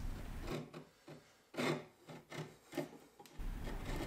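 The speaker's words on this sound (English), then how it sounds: "once dry, I could come back with a chisel to remove the excess" Chisel scrapes dried, frothed polyurethane glue off a wooden workbench part, a series of short rasping strokes in bursts, close and fairly quiet, with a low background hum in the gaps.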